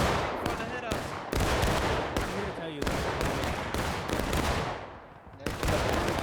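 Musket gunfire in the Civil War game War of Rights, loud cracking volleys and scattered shots booming one after another in a dense, continuous battle din.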